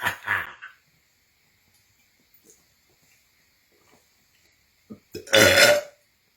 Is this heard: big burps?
yes